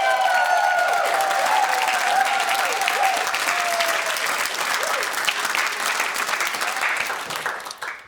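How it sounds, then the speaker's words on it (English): A studio audience at a comedy talk show breaks into loud, sustained clapping with some crowd noise, while a whistling farmyard sound effect fades out beneath it early on; the applause thins and dies away near the end. "Everyone applaud!"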